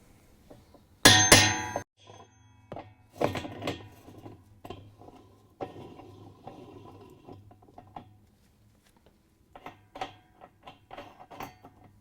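A spanner wrench is tapped against the spanner nut of a Whirlpool washer during basket drive replacement, giving a sharp loud metallic clank followed by scattered lighter clicks and knocks at irregular intervals.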